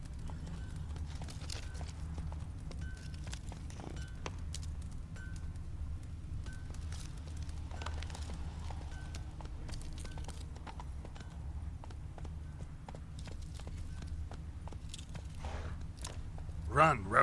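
In The Witcher 3 video game, a horse's hooves clip-clop in a steady rhythmic gait over a low ambient bed. A few faint chimes sound and a brief louder rustle comes at the end.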